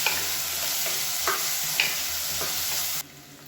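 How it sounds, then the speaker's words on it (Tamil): Drumstick and potato pieces sauté in oil with a dense, continuous crackling sizzle and a few soft stirring scrapes; the frying noise drops away abruptly near the end. "இது எல்லாத்தையுமே எண்ணெயில் வதக்கிக்கலாம்"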